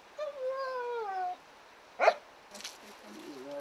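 A dog whines and yelps in a quiet outdoor setting, with a long drawn-out whimper, then a single short bark and a few softer whines, fairly close and alone.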